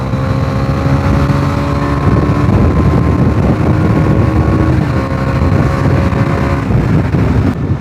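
A Bajaj Dominar 250 motorcycle ridden hard, its engine droning loud and steady from close up under rushing wind noise.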